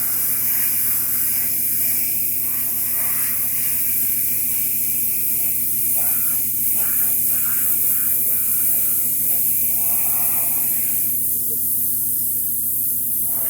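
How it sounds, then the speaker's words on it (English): Airbrush or spray misting bright yellow paint onto a 1/4-scale custom sculpted Thor figure, a steady close hiss running continuously with slight fluctuations and no talk. "I'm going to mist on some brighter yellow on top of this."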